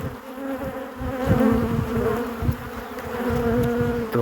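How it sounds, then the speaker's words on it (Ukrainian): A small swarm of honey bees arriving at a hive, a dense, steady buzzing of many insects that holds unbroken throughout, fairly close and loud with no talking. "А тут у нас невеличкий рій прилетів знову."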